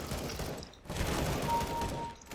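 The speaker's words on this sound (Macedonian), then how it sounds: "Негде пука." Gunfire in the game Counter-Strike: Global Offensive crackles as a rapid burst of shots, fairly close and dense, with a short lull partway through and no voices.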